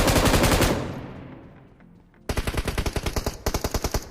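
Automatic gunfire in the mobile shooter BGMI: a long, loud burst that fades, a brief lull, then rapid rhythmic bursts of shots close by, with no talk.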